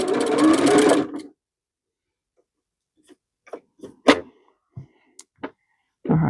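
A sewing machine runs in a short close burst of rapid stitching, then stops for a quiet stretch of light clicks and handling taps before the motor starts again at the end.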